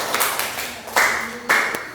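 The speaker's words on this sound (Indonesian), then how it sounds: "Tepuk tangan buat Dinda" In a classroom, a few pupils clap for a classmate named Dinda, giving sparse, sharp hand claps with gaps between them, close by.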